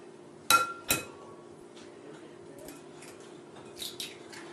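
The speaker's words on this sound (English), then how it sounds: "now we need to crack an egg and put that in the bowl" An egg is cracked against the rim of a mixing bowl: two sharp, close taps, then a few faint clinks of shell and dish a few seconds later, with no talking.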